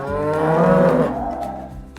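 A black and white cow on a farm gives one loud, close, drawn-out moo that swells and then fades, with nothing else audible.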